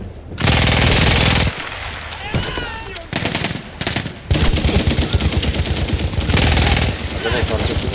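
Loud machine-gun and rifle fire from the World War I shooter Battlefield 1, rapid bursts and continuous volleys with explosions, filling the scene and pausing briefly between bursts.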